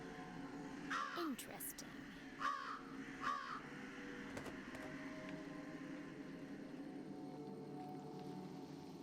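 Crows caw in three short bursts in the Jenny LeClue detective video game, heard over a steady ambient background, with brief talking in between.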